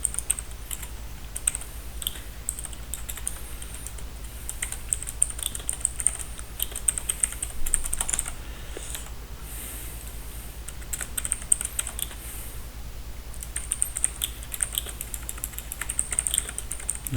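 Quick, uneven typing on a computer keyboard, a long run of close, crisp key clicks with brief pauses and bursts, with no talking.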